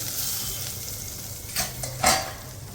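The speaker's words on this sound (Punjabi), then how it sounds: "ਗਰਮ ਗਰਮ ਤੜਕਾ ਉੱਪਰੋਂ ਦੀ ਪਾ ਦਵਾਂਗੇ" Hot oil tempering with Kashmiri chilli is poured over kadhi pakora, giving a steady close sizzle that flares into two sharp bursts near the end, with no talking.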